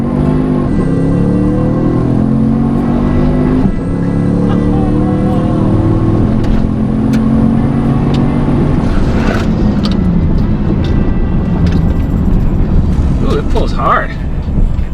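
Twin-turbocharged Chevrolet Silverado pickup engine, loud and close, with a steady low roar and rising harmonic tones that swell and shift like revving, continuous throughout with a brief dip near the start.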